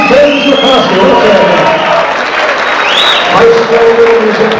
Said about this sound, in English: how about a nice round of applause for another game, James McCoskey